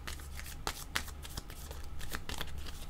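Tarot cards shuffle close up in a steady riffling flutter with a few sharper snaps, lasting about three seconds with no talk.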